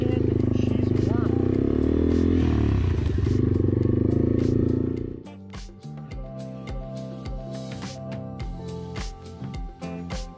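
Yamaha TW200 motorcycle heading out for a ride, its engine a loud, close drone that cuts off halfway, followed by clattering and scraping, with people talking throughout.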